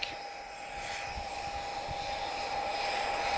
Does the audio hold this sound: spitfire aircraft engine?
yes